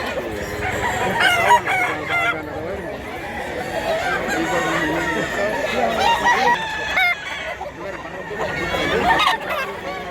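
Roosters crow repeatedly at a chicken farm in Mantalungon, Barili, overlapping calls near and far mixed with clucking and other fowl, while people talk in the background.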